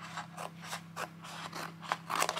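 Scissors cutting paper for a junk journal page make a series of about nine crisp, close snips in an even rhythm, quiet and alone.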